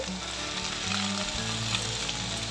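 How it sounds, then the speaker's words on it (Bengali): Methi (fenugreek) greens fry in ghee with a soft, even, continuous sizzle and faint stirring, heard up close without any voices. "ঘিয়ের মধ্যে নাড়াচাড়া করে নেব একটু ভাজা ভাজা করে নেব"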